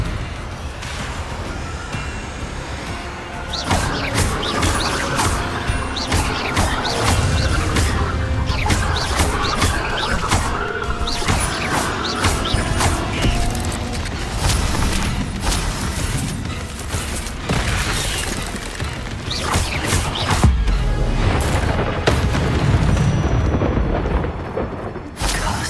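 Repeated Confringo fire-blast spell explosions in Hogwarts Legacy, loud booming blasts and crashes layered over continuous battle noise for most of the stretch after a quieter opening.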